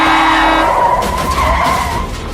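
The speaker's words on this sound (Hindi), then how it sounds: "एक उल्टी तरफ से आती हुई गाड़ी ने टक्कर मार दी और अश्विनी वहीं बेहोश हो गया।" Tires skid with a loud, sustained squeal as a car slides out of control just before a crash, a dramatic sound effect in a Hindi horror story, with no talking over it.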